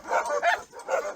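Several dogs barking and yipping in an open outdoor area, a few close, loud bursts in quick succession with brief pauses between them.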